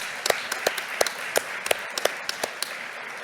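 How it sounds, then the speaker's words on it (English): A small gathering at a health and care research awards event gives scattered applause, a handful of distinct claps in loose rhythm over soft background noise, modest in volume. "You get a round of applause"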